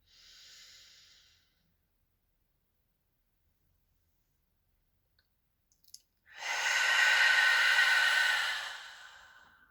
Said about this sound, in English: And let it out. Take a deep breath in.